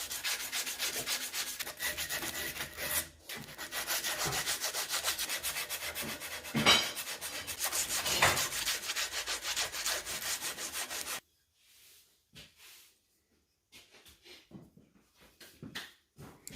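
Sandpaper rubs steadily across a metal motorcycle rearset mount from a Honda CB77 SuperHawk, a continuous close, loud scratchy rasp for about eleven seconds, then near silence with a few faint scrapes.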